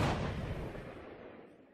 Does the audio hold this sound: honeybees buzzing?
no